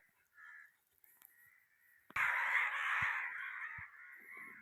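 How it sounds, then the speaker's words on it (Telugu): Crows call loudly at dusk near a farm garden: a couple of short caws from a distance come first, then a loud, harsh, sustained burst of cawing close by that lasts to the end. "కాకులు కూడా గట్టిగా అరుస్తున్నాయి"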